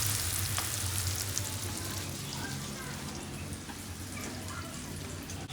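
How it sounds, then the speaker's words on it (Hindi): Vegetables go into a pan of hot tadka and sizzle steadily, a dense close frying hiss that holds for several seconds with faint stirring. "इसी में हम सब्ज़ी भी शामिल कर लेते हैं।"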